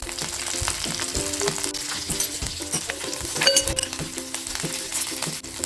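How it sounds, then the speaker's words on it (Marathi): Crushed garlic, a green chili and curry leaves sauté in hot oil in a pan, giving a steady, close sizzle with light clinks and scrapes from stirring and no talk. "एक हिरवी मिरची लसूण परतून घ्यायची नंतर थोडासा कढीपत्ता घालायचा"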